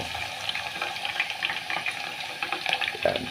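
Coconut and olive oil heat in a pan with aloe vera leaves and gel, giving a faint, steady bubbling sizzle with small crackles, quiet and close, no talk.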